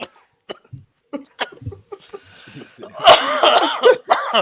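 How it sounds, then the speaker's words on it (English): A person coughs and laughs at once, close and loud, with harsh cough bursts mixed into laughter. Quieter voices and breaths come first. "I'm like coughing and laughing."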